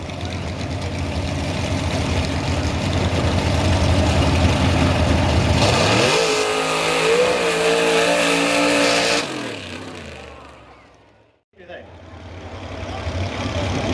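A mud bog truck with a Chevy body and Ford motor revs hard at a park mud bog event, a loud sustained engine roar that shifts pitch as it pulls, then fades and drops away before picking up again.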